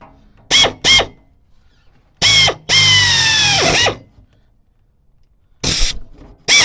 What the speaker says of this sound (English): I got to drill the hole for these to go through